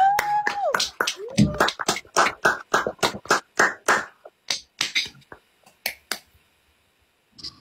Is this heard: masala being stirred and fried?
no